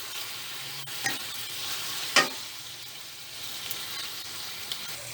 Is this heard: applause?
no